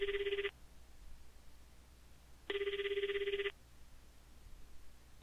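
A telephone rings in two bursts, one short and one longer, from an electronic ringer separated by a quiet pause in the Japanese horror game COME, faint and clear over a low background hum.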